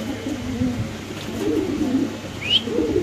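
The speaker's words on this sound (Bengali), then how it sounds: "ওই লোকের কবুতর।" Low, soft Spanish pigeon coos repeat near the listener, with a brief higher chirp midway and faint background murmur.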